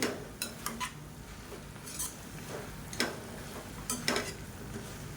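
Coriander and mint being stirred in a cooking pan, with soft sizzling beneath intermittent metal utensil clinks and scrapes against the pan, quiet and close, no talking.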